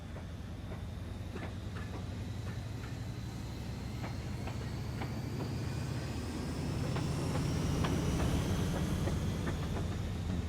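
A freight train pulls out in the railway tycoon game Mashinky. It gives a steady, loud mechanical rumble with faint rhythmic clicks, which swells slightly toward the end. No voices are heard.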